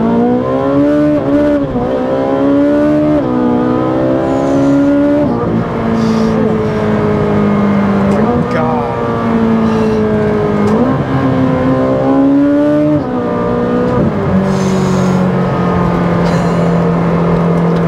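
A Ferrari 458 Speciale at a cars-and-coffee meet revs hard and loud up toward its 9,000 RPM redline, with repeated rising and falling engine sweeps over about eighteen seconds and no talking.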